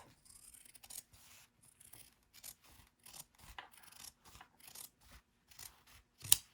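Scissors trimming seam allowances on bulky sewing fabric: a run of about a dozen quiet crisp snips and rasping cuts in an irregular rhythm, close to the ear, ending with one sharper, louder snip, no talking.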